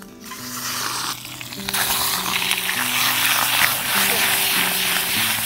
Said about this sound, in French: Pour rôtir la saucisse, on va mettre un peu de beurre.